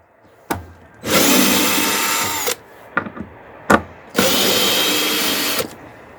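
Two long, loud bursts of a power drill or driver backing screws out of wood trim, each preceded by short clicks and taps, with brief quiet gaps between them and no talking.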